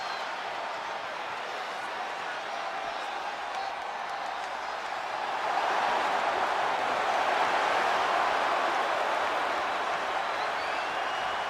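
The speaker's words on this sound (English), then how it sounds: "Rock and Cena face to face, feeding off the electricity of this crowd." Crowd noise from the WWE 2K25 wrestling video game as Rock and Cena face off, a steady wash of cheering and applause that swells louder halfway through and stays sustained.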